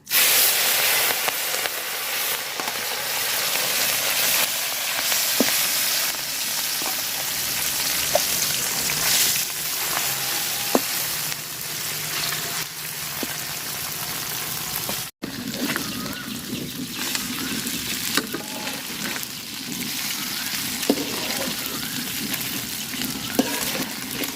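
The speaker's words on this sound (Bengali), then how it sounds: "তো তেল দিয়ে দিলাম মাছ ভাজার জন্য," Small fish fry in oil in a pan with a constant bright hiss and sizzle. Scattered pops and spits sound up close, and the texture changes partway through. No voices.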